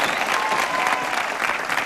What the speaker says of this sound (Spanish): Un gran aplauso para Lourdes Stephen.